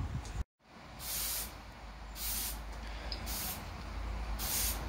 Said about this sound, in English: Bit of waterproofing spray